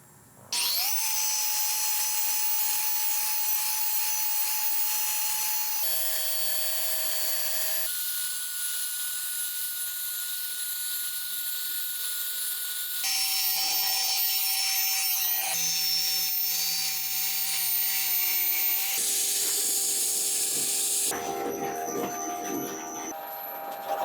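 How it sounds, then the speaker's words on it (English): Power-tool polishing of the surface of a broken-glass painting, a loud continuous high-pitched whine that changes pitch in distinct steps as the tool presses and shifts, with no talking. "the polishing is officially done"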